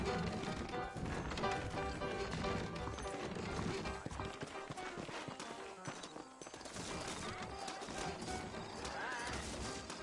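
Horse hooves clip-clopping in the Western video game Red Dead Redemption, a busy rhythmic clatter of hoofbeats mixed with game music and ambient effects, with a neigh near the end, steady and continuous.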